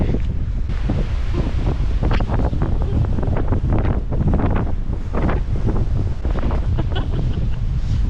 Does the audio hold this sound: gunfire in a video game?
no